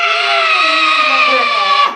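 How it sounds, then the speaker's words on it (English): One person lets out a single loud, sustained scream at the top of their lungs on a morning broadcast, holding it for about two seconds before it cuts off abruptly. "I want you to scream at your top of your lungs like this"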